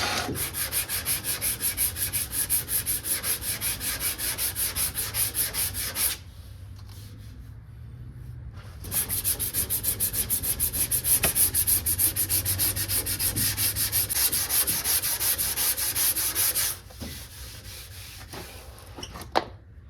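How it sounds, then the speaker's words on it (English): Sandpaper scrubbing bare car body metal on a 1979 Plymouth Volare wagon, loud close rasping strokes in two long bursts separated by quieter pauses, with a fainter scratch near the end. "Try to not sand that too much."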